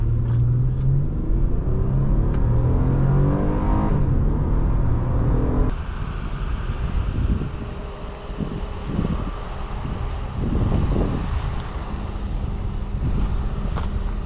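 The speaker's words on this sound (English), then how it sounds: "Today we're driving a 2007 Honda Accord V6 Coupe on our channel." 2007 Honda Accord V6 coupe on the road, a low steady engine and road rumble with wind noise heard from inside the cabin, with a short engine tone early on before settling into a continuous drone.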